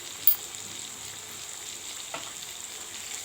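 Chili powder and spices frying in oil in a pan for a home-style bitter gourd curry, a soft continuous sizzle with a couple of brief stirring clinks, close and without talk.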